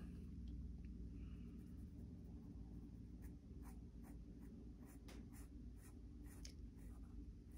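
Pencil drawing on paper for a self-portrait, sketching nostril lines: steady close scratchy strokes in repeated short bursts over a low background rumble.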